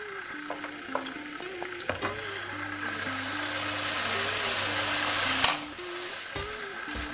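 Mushrooms and garlic sizzle steadily in a hot pan, with clear scraping and knocking as a utensil stirs them, the frying hiss swelling toward the end before a brief settle.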